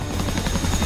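A Chinook helicopter in the DCS flight simulator, a loud close rotor drone with fast thumping blade pulses and a low hum, brief and alone.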